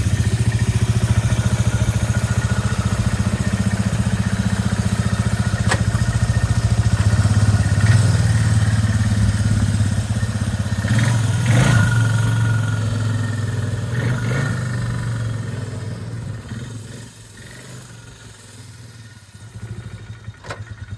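A Polaris 325 Trail Boss ATV engine runs after coming out of the garage to burn off old oil, a steady close idle with a few blips of throttle, then the sound fades and drops near the end.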